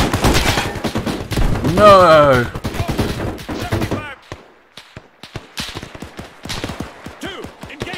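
Loud, close gunfire in Arma 3 with the Army Men: Civil War mod during a Zeus battle: dense bursts of rapid shots, then scattered single cracks, with a brief shouted voice and some talking between volleys.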